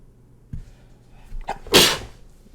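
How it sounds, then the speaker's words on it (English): A single loud sneeze bursts out after a few small sharp intakes of breath, close and alone in a quiet room. "I'm about to sneeze."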